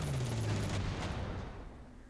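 Gunfire rattles out as a tank unit comes under attack in the Panzer Corps war game, a dense burst of shots loud at first and then thinning into a fading, rumbling tail.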